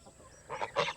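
Farmyard geese, kept alongside chickens and turkeys, give a few short honks that swell in the second half of the moment, fairly close and loud over a noisy outdoor background.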